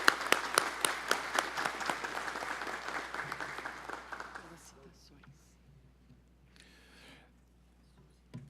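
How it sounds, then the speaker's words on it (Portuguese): Applause in the São Paulo state legislature begins with sharp, distinct claps that fade out after about four seconds, followed by quiet room sound and faint voices. "Peço mais uma vez uma salva de palmas à Sua Excelência."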